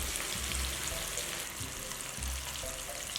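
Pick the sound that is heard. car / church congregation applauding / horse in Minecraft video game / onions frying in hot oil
onions frying in hot oil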